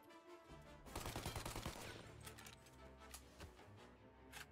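A burst of rapid gunfire from the Mafia video game, a quick rattling volley of shots followed by a few scattered single cracks, fairly quiet in the mix with no talk over it.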